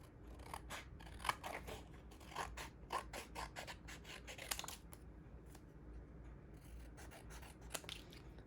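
Scissors trimming card paper for handmade Christmas shaker cards, a close series of crisp snipping and scraping cuts in uneven bursts, quiet and alone with no voices.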